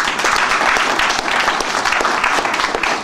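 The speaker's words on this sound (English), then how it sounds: "Why don't you clap for TLC?" Audience at a business pre-launch presentation in Ghana clapping, a loud, busy crowd applause with uneven individual claps standing out throughout.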